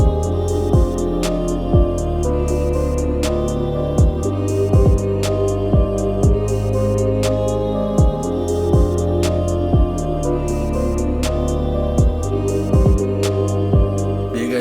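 Full type beat playing with booming sliding 808 bass, steady kicks and hi-hats, and a looping melodic layer, dense and loud throughout with no voice.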